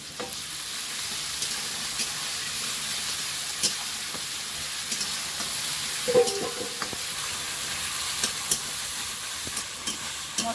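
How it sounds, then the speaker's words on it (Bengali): Ginger-garlic paste frying in oil for chicken biryani, a steady close sizzle and hiss with occasional stirring clinks and scrapes throughout, no talking. "ভেজে নিয়ে এর মধ্যে আদা রসুন বাটা মাখানো আছে"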